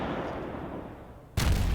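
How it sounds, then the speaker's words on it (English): A single deep artillery blast from the Panzer Campaigns Bulge 44 wargame cuts in abruptly after a quiet rumbling background and stays loud to the end. "So let's fire a normal artillery there."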